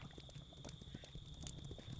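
Horse hooves clip-clop in the video game Kingdom Two Crowns, a quick, steady run of soft hoofbeats over a faint constant tone, quiet and alone.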